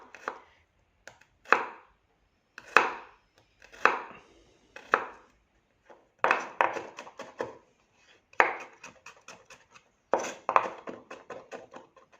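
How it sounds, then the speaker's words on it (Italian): A knife chopping garlic into small pieces on a cutting board, close crisp taps in short rapid bursts separated by pauses, with no talking. "Adesso tritiamo l'aglio. Quest'aglio non ha neanche l'anima, perfetto, lo tagliamo a pezzetti."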